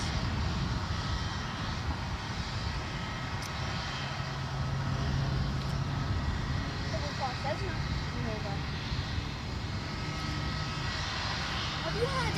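A Ryanair Boeing 737-800 at Edinburgh airport makes a steady, moderate jet engine drone that runs throughout, with people chatting faintly over it.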